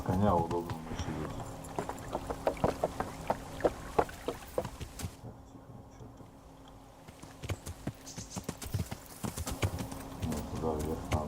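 Horse hooves clip-clop steadily on the ground in the medieval video game Kingdom Come: Deliverance 2, a regular walking rhythm with a brief lull midway, while someone talks over it.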